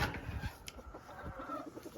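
Chickens clucking in a farm pen, a few soft irregular clucks and rustles at close range over a low background hum, with no talk.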